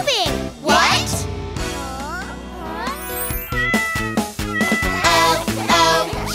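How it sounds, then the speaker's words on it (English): A kitten in a box meows repeatedly amid a busy, musical children's nursery-rhyme backing with bright tonal melodies and a voice, the meows blending loudly into the music rather than standing alone. "Oh, oh, cute kitty. Kitty is in the box."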